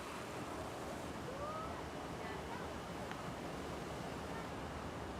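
Water from an artificial waterfall and lake in a shopping mall park, a steady broadband rush that stays even and continuous throughout, without distinct splashes.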